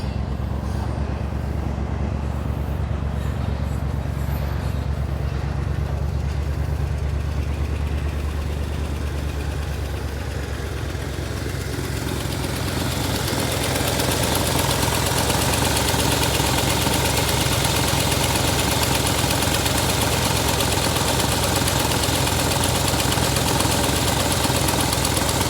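An old abandoned International pickup truck engine idling roughly after revival, a steady rumbling drone with knocking vibration that grows louder and harsher partway through, no talk.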